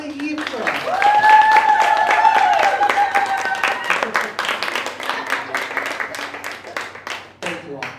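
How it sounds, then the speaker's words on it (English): Audience applauding for artist Ifrah Mansour at a Cedar-Riverside community event, a burst of clapping that swells quickly and then thins into scattered claps, with a held sung or spoken tone and voices over it early on. "let's give a round of applause to Ifrah"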